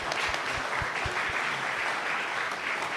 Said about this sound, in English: I would like to you all give a round of applause to all the speakers.